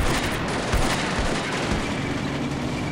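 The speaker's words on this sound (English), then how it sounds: "Artillery is still smacking the Germans around in the building" An artillery barrage shelling a building in the Combat Mission: Beyond Overlord video game, set in the battle for Carentan. It is a steady, loud wall of rumbling, crackling fire with no pauses.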